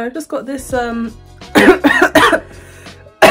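A woman coughs a few sharp, loud times close to the microphone, mixed in with her own talking in a quiet room.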